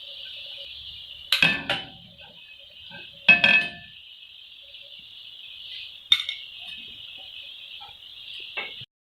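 Vegetables, added to chicken for Singaporean rice, fry over high heat. A sustained high-pitched hiss runs throughout, broken by several sharp metal clanks and scrapes of a spatula against the pan.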